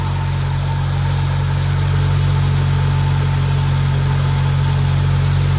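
Supercharged Subaru BRZ / Toyota GT86 engine at idle, a steady, even low drone holding constant throughout with no revving and no voices.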